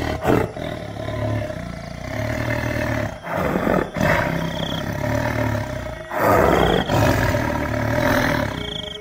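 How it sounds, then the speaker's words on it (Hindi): A lion roars loudly in several powerful bursts separated by brief pauses, deep and close, with no voices. "शेर कल्लू के सामने जोर से दहाड़ता है।"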